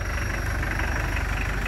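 A 1991 Mitsubishi Delica Star Wagon with its 2.5-litre 4D56 turbo diesel idles close by, a steady low rumble with a faint rhythmic knock and no voices over it.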